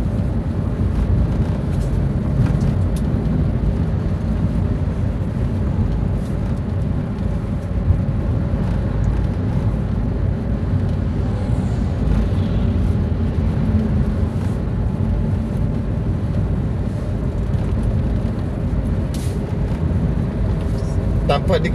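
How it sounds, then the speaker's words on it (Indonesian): A Ramayana bus passes on the Jalan Soekarno-Hatta bypass in Palembang, heard as a broad, steady road rumble and engine drone from inside a moving vehicle, with someone talking over it. "Ini ada juga bus Ramayana yang melintas di Jalan Soekarno-Hatta bypass Kota Palembang teman-teman."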